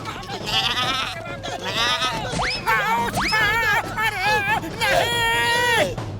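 Repeated goat bleats in a Motu Patlu 3D animated cartoon, loud and close, wavering cries overlapping one another amid background crowd chatter and noise.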